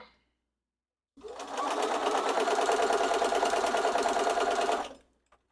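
Sewing machine running steadily while joining quilt rows, one continuous close rattling whir of nearly four seconds that starts abruptly and stops cleanly, with no talk.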